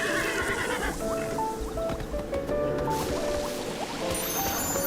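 A horse whinnies loudly and close by, a long wavering neigh over shuffling hooves and rustling, with no talking.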